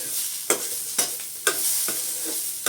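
Cooked chayote and toor dal being stirred in a pan, four or five distinct scraping spoon strokes at a slow, even pace over a low steady sizzle.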